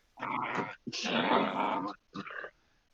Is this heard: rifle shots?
no